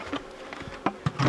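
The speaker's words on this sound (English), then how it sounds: "Alright, buzzy bees." Honey bees buzz around a hive during an inspection, with brief close passes and a faint drone over a quiet background.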